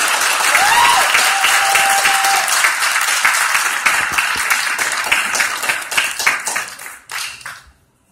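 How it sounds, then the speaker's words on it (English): Loud, sustained applause from an audience, dense clapping that thins out and fades near the end. "Ladies and gentlemen, real loud, make some noise for Fern"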